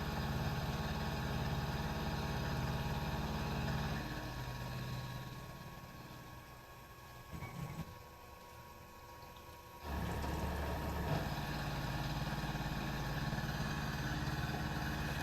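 A Tormach PCNC 1100 CNC mill runs a 4-flute solid carbide cutter at a thousand RPM and 5 inches per minute feed, giving a steady machine drone with coolant-like hiss that dips midway and then returns louder.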